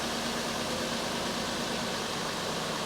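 A Nissan Frontier engine idles steadily with a fresh serpentine belt, a constant broadband hum and hiss with no change in pitch and no voices.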